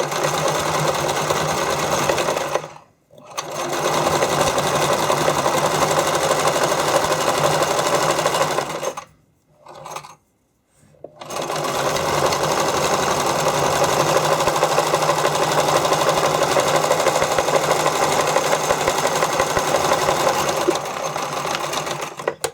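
A sewing machine runs a wide zigzag stitch along the end of stretchy skate covers, humming steadily and close up, stopping briefly twice before resuming for long continuous runs.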